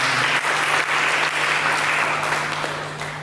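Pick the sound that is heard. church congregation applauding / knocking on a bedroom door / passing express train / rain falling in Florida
church congregation applauding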